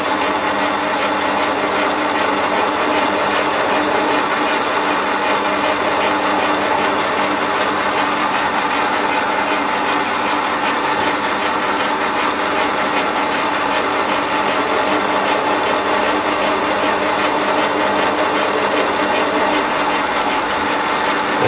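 A small centre drill cutting into a metal part turning on a Warco lathe, a steady, loud, unbroken mechanical hum and whir from start to finish.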